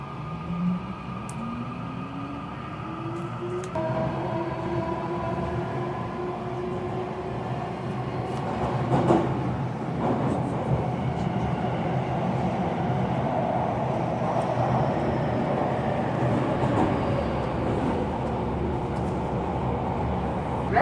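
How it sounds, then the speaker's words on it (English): A Japanese limited express subway train riding on rails: a steady rumbling roar of the carriage in motion with rising motor whine, occasional clanks and rattles from the track, heard from inside the moving car. "this is the last subway station this express train will stop at"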